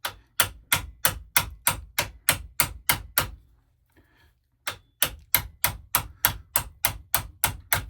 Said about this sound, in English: Got some ancient hammer that I inherited from my dad